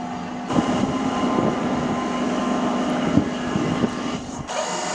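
A MEMU passenger train rolls along just after leaving Bibinagar station, heard from inside as a loud, continuous rumble and rattle with a steady hum and occasional knocks from the wheels.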